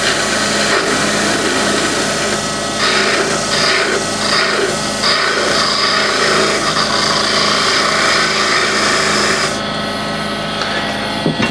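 A spindle gouge cuts slowly into a red resin and gum wood box blank spinning on a lathe, producing a continuous close scraping rasp over the steady hum of the machine.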